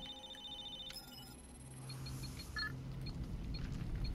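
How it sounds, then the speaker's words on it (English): An in-game telephone rings in Halo 3: ODST with short repeated electronic trills over a low ambient hum, fairly faint and steady with no voices over it. "Ooh, there's a phone or something."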